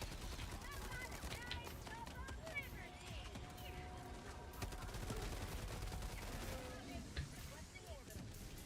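A sentry gun fires in a fan-made Unreal Engine recreation of Helldivers 2, rattling off rapid repeated gunfire bursts mixed with other game effects, steady and loud beneath a speaking voice.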